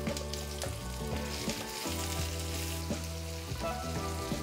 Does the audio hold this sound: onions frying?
yes